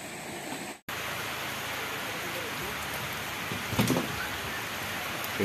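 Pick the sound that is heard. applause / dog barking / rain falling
rain falling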